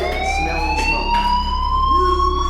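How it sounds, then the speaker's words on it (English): In the Life is Strange video game, a school fire alarm sounds at Blackwell Academy, a loud continuous wailing tone with a slowly rising pitch over a constant low hum, sustained throughout. "Hey, do you hear that fire alarm?"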